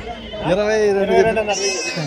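Goats bleat at a sheep and goat livestock market in Angallu: a drawn-out, wavering cry rises and falls across about two seconds, close and fairly loud, with market noise around it.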